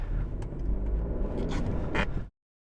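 A 2022 Chevrolet Trailblazer AWD pulls away hard from a stop on a snowy road, its engine droning steadily under acceleration with some scraping from the tires, close and continuous before cutting off abruptly.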